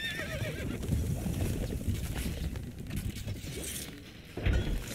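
A horse whinnies amid busy Stronghold Crusader game sound effects, with a clattering, hoof-like rhythm and a louder burst near the end.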